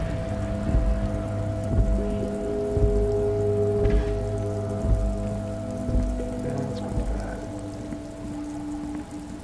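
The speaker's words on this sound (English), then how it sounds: "All around you, rain falls on the great city of Revachol. Rain drips from the eaves and floods the gutters," Rain falling steadily on the city of Revachol in the video game Disco Elysium, a soft continuous patter and drip beneath a low rhythmic musical score, with no talking.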